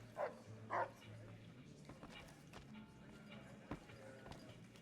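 Two short barks from Rex, a cyborg dog in the video game Fallout: New Vegas, come early and close together over a low hum of game ambience; a single faint thump follows later.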